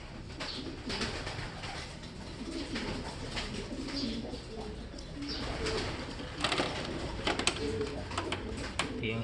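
A large flock of racing pigeons, around 300 birds, coos continuously in a dense, overlapping murmur close by, with occasional wing flutters and sharper bursts. A voice speaks faintly underneath.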